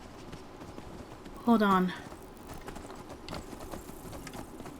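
Horse hooves clip-clop on the ground in the Skyrim video game, a quiet, steady trot under game ambience while a voice speaks briefly over it.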